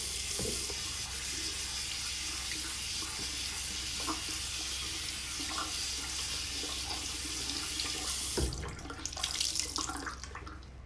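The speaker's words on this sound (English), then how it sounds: "You wash again, and this time you pat down with cold water, which will close your pores." Tap water runs steadily into a sink during a face wash, a continuous close hiss that persists for about eight seconds before the flow is disturbed and splashes briefly near the end.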